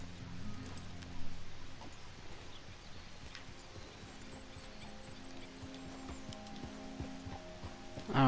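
Horse hooves walking in Red Dead Redemption 2, a soft, faint clip-clop plodding steadily under low ambient game noise, with no talk.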